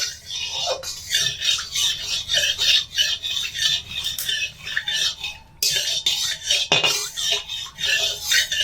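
Mustard oil swirled around a hot kadai on the stove, a soft continuous scraping and sizzling rasp with faint metallic clinks, close and steady throughout.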